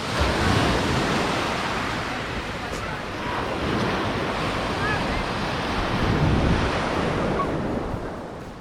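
Surf rolls steadily onto a wide sandy hotel beach with a sand-and-pebble shoreline in Alanya, Konakli, Turkey, a loud, continuous wash of breaking waves mixed with wind buffeting the microphone, and no talking.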